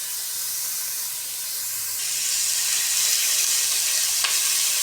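Chopped onion frying and browning in hot oil in a pot for soybean biryani, giving a steady close sizzle that grows louder and denser halfway through, with no talk.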